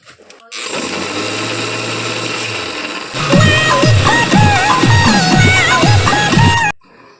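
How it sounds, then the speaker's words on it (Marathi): A kitchen mixer whirs through banana and sugar for a smoothie, first as a steady hum, then as a louder, pulsing grind for several seconds before it cuts off abruptly. "हे आता मिक्सरमध्ये फिरून घ्यायचं"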